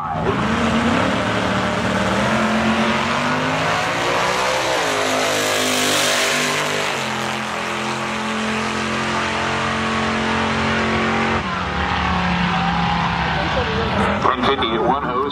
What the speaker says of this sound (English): Your Corvette Roadster up next here on the Aeromotive side of the drag strip.